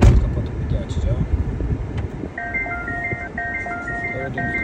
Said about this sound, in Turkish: Gördüğünüz gibi bu da araç uyarı sesleridir.